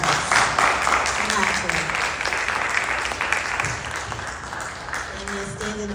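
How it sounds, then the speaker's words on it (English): Audience applause at a hip hop film festival, a broad steady wash of clapping sustained throughout, with voices talking over it. "Y'all have to give him a round of applause"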